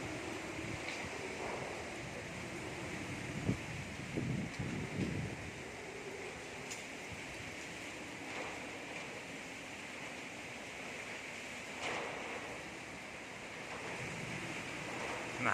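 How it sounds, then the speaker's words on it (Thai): Strong tropical storm wind at Na Pa, Chonburi, before dawn makes a steady, roaring rush of broadband noise with occasional gusts and faint thumps, sustained and fairly quiet, with no talk. "ลมแรงมากเลยครับ"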